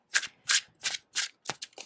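Tarot cards riffle shuffled close up, in about six quick papery bursts of a fraction of a second each, separated by short pauses, with no talking.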